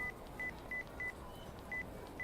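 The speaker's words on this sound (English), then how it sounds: "She typed a quick message to her brother on her phone." Short electronic keypad beeps from phone text typing in the video game Chaos;Head Noah, about seven evenly spaced tones in a quick, regular rhythm over a low background hum.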